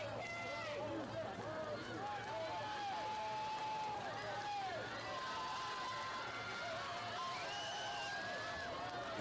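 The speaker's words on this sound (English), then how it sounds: "You hear the crowd getting into it." Crowd cheering at a high school district track and field relay race, a broad continuous roar of shouts and whistles heard from a distance, with an announcer talking over it throughout.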